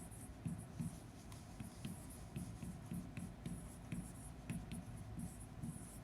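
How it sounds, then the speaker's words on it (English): Marker scratching and tapping as algebra equations are written on a board, a faint, close series of short strokes in irregular rhythm with no talking. "So I'm just going to start by writing these two down."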